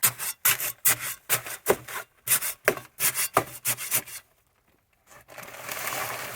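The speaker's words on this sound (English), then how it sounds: "then you just take your trowel and cut your bag open" A trowel slicing open a heavy bag of material beside a greenhouse build, a run of about a dozen quick rasping, tearing strokes at close range, then a pause and a softer steady rustle.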